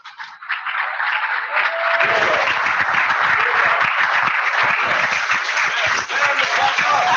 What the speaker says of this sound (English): Give Khadija a round of applause.